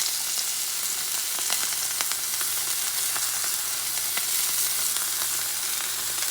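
Yak tenderloin sizzling in a hot cast iron pan, a dense, steady crackle of frying fat with scattered sharper pops throughout, close and continuous with no talking.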